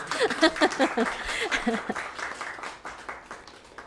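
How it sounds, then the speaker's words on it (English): An audience at a government funding announcement for women with disabilities gives a round of applause, rising quickly and then fading over a few seconds, with a voice and light laughter mixed in early. "And yes, we can give that a round of applause."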